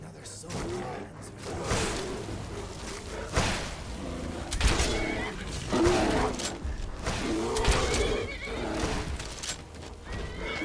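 A horse neighs and whinnies several times amid hoofbeats and Skyrim game sound effects, with a voice talking over parts of it.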